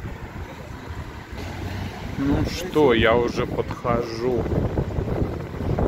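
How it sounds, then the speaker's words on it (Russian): Strong night wind by the Bosphorus in Istanbul buffets the microphone with a steady roar while someone talks over it. "Ветрище, конечно."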